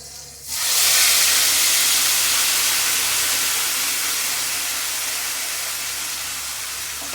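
Spice paste goes into a hot pan for stuffed brinjal curry. A loud, sudden burst of sizzling steam rises right after a quiet start, then a broad hiss holds and slowly eases off.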